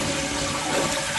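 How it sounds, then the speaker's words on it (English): A household toilet with a faulty, loose flapper flushes with a steady, close rush of water that keeps running without a break and with no voices. "all I should do is flush the handle and let go of it just like a normal flush"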